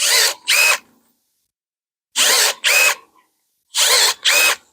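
Milwaukee M12 cordless pruning shears make three rapid cuts through a branch about three-quarters of an inch thick, each a loud paired motor whir-and-snip burst, spaced about two seconds apart with silence between.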